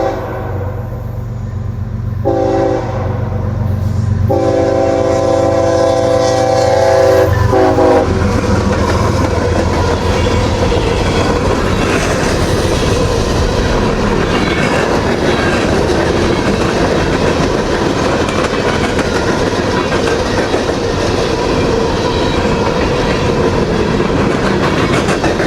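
CSX freight train B424 heading north at Nortonville, Kentucky sounds a few horn blasts, then roars past close and loud with continuous rumbling wheels and clattering rail joints that fill the rest of the stretch.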